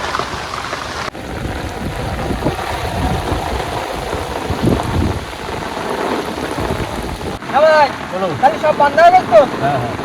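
Heavy rain and gusting wind lash a boat moored in the Sundarbans during a storm, a loud, constant roar with wind buffeting the microphone, and a voice briefly rising near the end.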